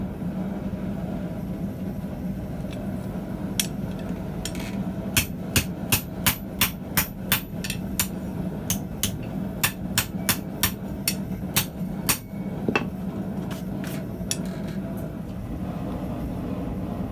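A hammer strikes metal on an unsecured 88-pound anvil fitted with a bending jig, a series of sharp ringing blows in quick bursts over a low background hum, some strikes spaced and others rapid.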